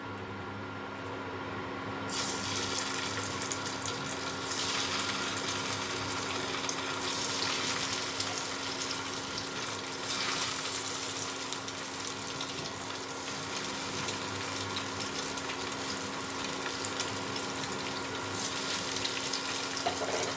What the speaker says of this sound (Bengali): কড়াটা গরম হলে এটা সাদা তেলে আমি ফ্রাই করে নেব